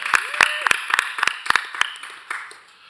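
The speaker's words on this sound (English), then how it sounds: "I want to give you a brief round of applause." A small group at a public hearing claps briefly, about a dozen sharp, uneven claps fading out within a few seconds.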